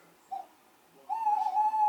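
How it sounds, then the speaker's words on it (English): An owl hoots outdoors, a faint brief call early, then a long steady louder hoot that fills the second half of the clip. "That's an owl."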